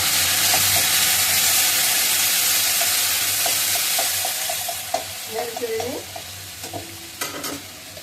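Marinated chicken poured into a pan with water, frying with a steady loud sizzle while a utensil stirs and scrapes in irregular clanks, the sizzle easing somewhat toward the end.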